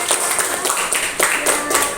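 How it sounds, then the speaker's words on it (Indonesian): Clapping from a small class group after a group presentation, a handful of distinct hand claps with uneven rhythm, moderately close, fading and recurring. "Tepuk tangan untuk kelompok 3."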